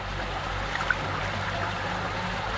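River water flowing steadily around a bather, a soft continuous rush and trickle with a faint splash early on, no voices.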